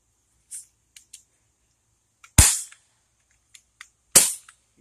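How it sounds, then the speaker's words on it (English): Umarex XCP air pistol firing outdoors: two sharp, loud cracking shots a couple of seconds apart, with faint clicks and handling taps around them and no talking. "I'm going to shoot this XCP first."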